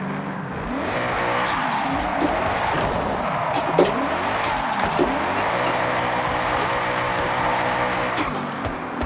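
A 700-horsepower drift car in Forza Horizon 6 revs hard with rising and falling engine sweeps and bursts of tyre squeal, loud and continuous, with brief voice interjections.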